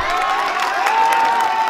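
Steady applause and cheering from an audience at a poster launch event for a music video album in Raipur, a short dense burst of clapping mixed with shouts at constant volume.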